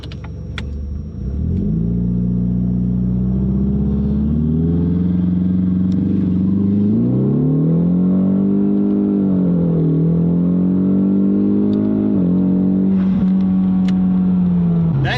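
A Ford Mustang EcoBoost doing a boost launch, its engine droning steadily near the microphone and then climbing through rising and falling revs as it accelerates hard, loud and continuous with no talk.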